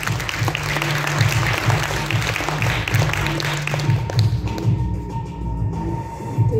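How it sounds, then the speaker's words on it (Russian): An audience at an award ceremony for winning IT bootcamp teams gives sustained applause that thins out toward the end, with a little background chatter. "Похлопаем, пожалуйста."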